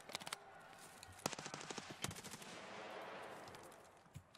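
Rapid, quiet bursts of gunfire in the Escape From Tarkov Arena video game, several quick shot strings and a lone later shot over steady background noise.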